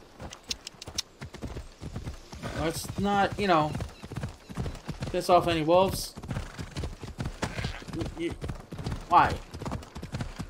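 Horse hooves clip-clop in a steady rhythm in the video game Assassin's Creed Odyssey, with whinnies rising over the gait and people talking over it.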